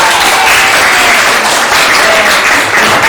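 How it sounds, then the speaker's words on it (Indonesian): Audience in a classroom applauding a presenting student group, a steady dense wash of clapping from many hands lasting the whole stretch, loud and continuous. "kasih tepuk tangan untuk kelompok 2"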